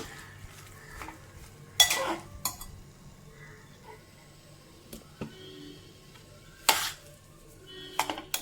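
Thick sweet potato and jaggery mixture stirred in a pan, with occasional loud scraping strokes and clinks of the spoon against metal between quieter stretches.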